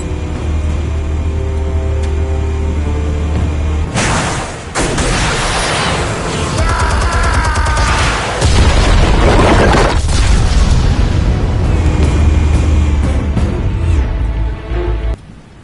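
Explosives are set off in a sequence of loud booms and crashes, with deep rumbling impacts and debris-like noise over a steady low mechanical hum.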